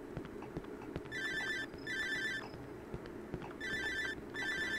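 A telephone rings in the horror video game Cry of Fear, in four bursts of bright electronic trilling separated by short pauses, loud and close over a low background hum.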